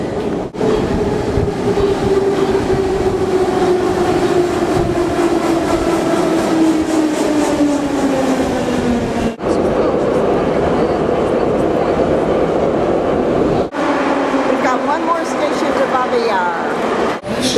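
Kiev metro subway train running, a loud continuous rumble with a slowly falling motor whine and rattling wheels, heard from inside the car with people talking over it.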